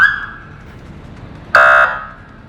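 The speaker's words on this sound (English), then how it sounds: "Then you got your siren here," A Harley-Davidson Police Road Glide motorcycle sounds its siren briefly and then its horn: a short, very loud, steady tonal blast up close, standing alone against quiet background.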